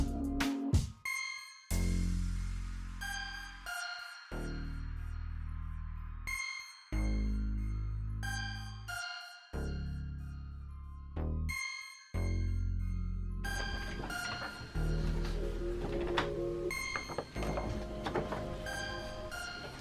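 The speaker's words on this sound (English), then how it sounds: "So now I'm going to send this to my printer and show you guys what they all look like." A desktop printer runs through a print job of small business thank-you cards, its steady mechanical whir broken by repeated feed clunks and brief pauses between pages, close and alone with no talk.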